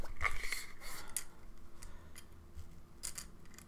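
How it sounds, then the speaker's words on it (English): A small tape measure is pulled out close by, giving a short run of light metallic clicks and rattles that fade to quiet handling noise, with no talking. "Tape measure."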